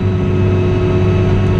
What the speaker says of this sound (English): And then I press the button to rev the tractor up.